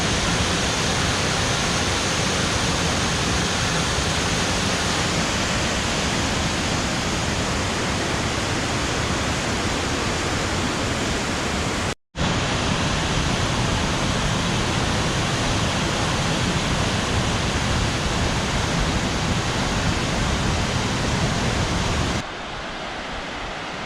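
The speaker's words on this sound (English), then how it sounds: "Continuing on down to the second waterfall." Waterfall at Tres Cascadas near Villa de Leyva, Colombia, a loud, continuous broadband roar of rushing water heard up close, broken by one brief cut and ending slightly quieter.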